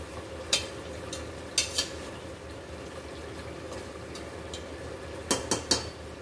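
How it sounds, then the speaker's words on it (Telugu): Chicken frying in a pan for chicken biryani, a steady soft sizzle broken by several sharp clinks and scrapes of a spoon stirring, close up with no talking. "మంచిగా ఫ్రై అవుతుందండి."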